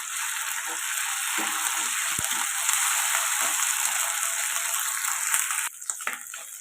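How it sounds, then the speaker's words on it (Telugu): Ginger garlic paste fries in a pan with a loud, steady sizzle and crackle, with a few stirring knocks, then the sizzle drops sharply near the end. No one speaks. "ఇది కూడా పచ్చివాసన పోయేదాకా ఫ్రై చేసుకుందాం"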